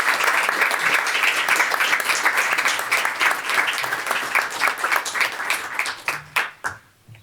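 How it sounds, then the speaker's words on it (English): A room full of people applauds at a village board meeting, steady dense clapping lasting several seconds before it thins into scattered claps and fades out. "Give them a round of applause"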